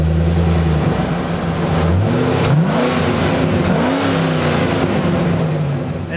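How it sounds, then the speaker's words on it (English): A first-generation Hummer off-roader with a 6.2-liter V8 revs loudly, its engine note rising and falling in several throaty swells with no talking. "who doesn't love the sound of a V8?"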